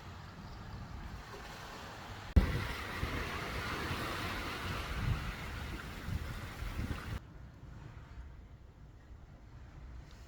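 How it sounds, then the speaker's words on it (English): Ocean surf washes in a broad, steady rush that swells loudly for a few seconds before dropping back to a softer, distant wash. "I can't get enough of listening to the sound of the waves"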